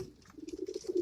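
A pigeon in a breeding loft gives a soft, close, throaty coo that rises into a sustained rolling murmur lasting about a second.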